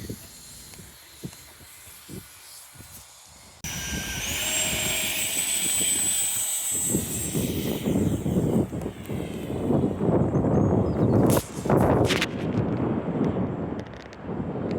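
A Yak 15 RC model jet, rebuilt with new landing gear, flies overhead with a loud, steady engine whine and rushing wind noise that swells partway through, with no talking.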